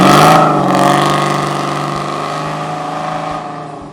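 A car exhaust fitted with a Flowmaster Super 10 series muffler revs with a loud, raspy, aggressive drone that peaks early and then slowly eases off while staying steady and strong.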